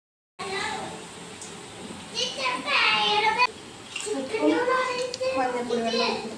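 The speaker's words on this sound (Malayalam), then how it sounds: "ഉപ്പും മഞ്ഞൾപ്പൊടി വെള്ളം ഒഴിച്ച് കൊടുക്കാം." Salt and turmeric water is poured into a pot of cooking jackfruit for Kottayam-style chakka puzhukku, a splashing pour heard under steady talking with a voice nearby.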